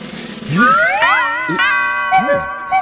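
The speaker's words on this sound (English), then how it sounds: "I didn't know a giant goose could use a doorbell." A doorbell chimes with ringing, melodic tones at a live stage show, loud and near, several tones rising and repeating over about three seconds.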